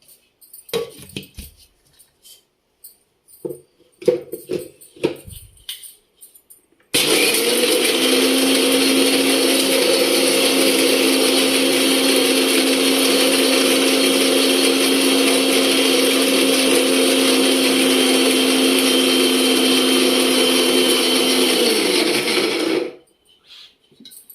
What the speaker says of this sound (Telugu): ఇది కూడా మిక్సీ పట్టుకుందాం.